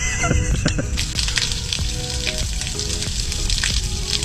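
Bilge pump discharging a few hundred gallons of water out of a nearly sunk boat, a steady, close splashing gush of water that runs continuously without pause.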